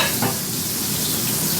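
Steaks sizzle on a hot grill in a loud, steady hiss of frying fat that fills the whole moment, close up and with no voices.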